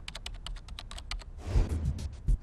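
Someone types on a computer keyboard with a rapid, even patter of close, crisp keystrokes, which thicken into a denser flurry of clacks near the end.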